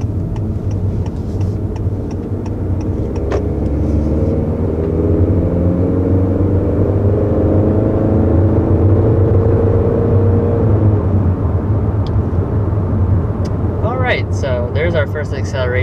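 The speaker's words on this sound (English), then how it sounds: "First acceleration up to about 60 miles an hour with this 2021 Honda Accord." A 2021 Honda Accord with a turbocharged four-cylinder accelerating to about 60 mph, heard from the cabin as a steady engine drone with slowly rising pitch under road rumble.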